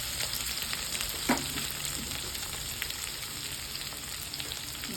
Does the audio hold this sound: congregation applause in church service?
no